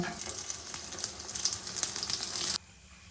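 Bun dosa frying in white oil on a pan over a low flame, a crackling, spattering sizzle close by for a few seconds before cutting abruptly to quiet.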